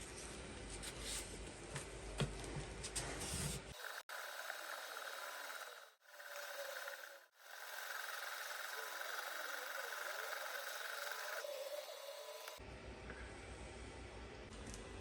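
A chisel is being sharpened on a Tormek T8 sharpener, giving a steady, fairly loud grinding hum that cuts out briefly twice in the middle before the machine sound drops away near the end.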